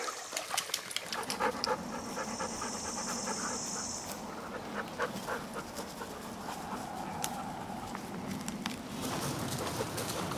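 Dogs panting on a warm, humid woodland trail, quick rhythmic breaths up close under outdoor background noise, with faint bird calls and a high insect buzz for a few seconds.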